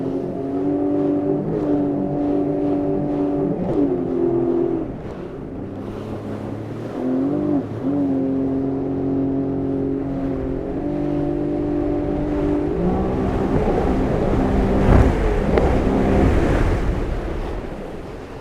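A 2021 Sea-Doo Wake Pro jet ski on open water revs and drops repeatedly as it brakes and turns, its engine tone shifting in steps, with splashing and waves building toward the end.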